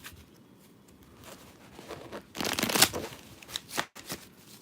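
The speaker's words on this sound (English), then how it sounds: "Let me shuffle these." Playing cards are shuffled close by in a few quick riffling bursts, with soft handling noises between them.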